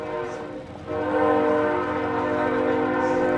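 A train horn blares steadily near a college soccer field in Kenosha during an overtime match, loud and sustained for several seconds as the train rolls past.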